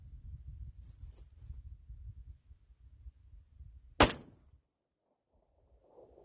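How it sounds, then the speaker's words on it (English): A single practice gunshot fired at a gray target cracks out sharp and loud partway through, following low rumbling handling noise, then trails into near silence. "I'm going to do a practice shot just right in the center of the gray target"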